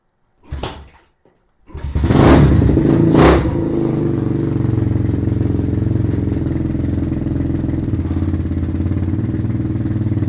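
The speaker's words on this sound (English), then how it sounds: "I'm going to start the bike up." A Venom Thunder 125 dirt bike engine cranks with a couple of short bursts, catches and revs up, then settles into a loud, steady rumbling idle close by, with no voices.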